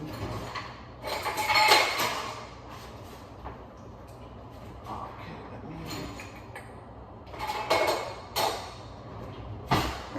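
Kitchen rummaging for a measuring spoon: clinks of cutlery and utensils, a drawer or door sliding and a few louder clatters, scattered over ten seconds with quiet gaps.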